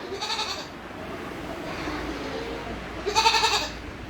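Osmanabadi goats in a free-range goat shed in Latur, Maharashtra, bleat twice, one short nasal cry near the start and another a few seconds later, with quiet shed noise between.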